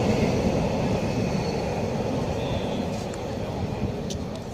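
A DB Class 90 electric locomotive passes on the West Coast Main Line at Nuneaton, a steady loud rumble and rush of wheels on track filling the scene with little change in level throughout.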